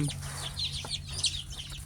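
Native Thai farm chickens clucking at feeding time, with soft repeated clucks and brief chirps over a steady low background hum, fairly close and moderately loud.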